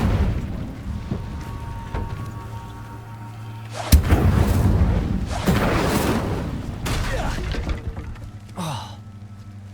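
Incendio, a fire spell in the PC game Hogwarts Legacy, goes off in loud whooshing, booming bursts around the middle of the clip over a low game-music background.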